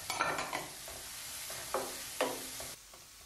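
Chopped spinach cooks with butter and minced garlic in a pan, a close sizzle broken by a few quick stirring scrapes, heard alone.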